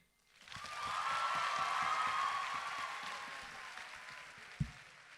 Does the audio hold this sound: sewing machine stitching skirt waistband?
no